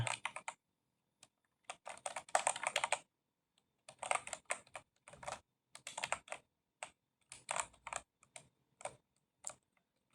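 Keys on a computer keyboard are typed in uneven bursts of rapid clicks separated by short pauses, close and fairly quiet in an otherwise silent room.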